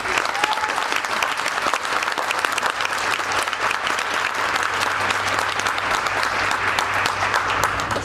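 Dense audience applause at a school music program introduction, a loud continuous roar of clapping that holds steady for eight seconds with faint voices mixed in.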